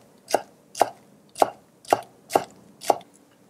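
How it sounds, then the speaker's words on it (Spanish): Six sharp knife chops on a cutting board as chives are finely chopped, evenly spaced about half a second apart, close and clear with no talk. "Y picamos finamente el cebollino."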